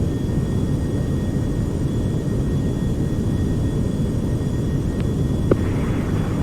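Aircraft engines throttling up in the Prepar3d flight simulator video game, a steady broad engine roar with a faint high whine, continuous and loud throughout with a small click near the end.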